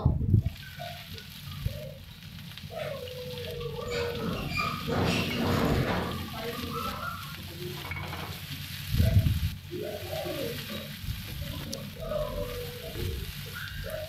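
Chopped onions frying in oil with whole cumin and a dried red chilli for an egg curry, a steady close sizzle with occasional stirring scrapes and brief louder spits.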